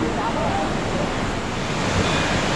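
The fast-flowing Alaknanda river near Badrinath temple in Uttarakhand gives off a loud, continuous rushing roar, with no pause in the dense water noise.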